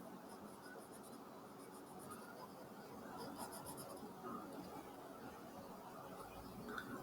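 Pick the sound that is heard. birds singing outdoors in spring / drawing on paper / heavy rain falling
drawing on paper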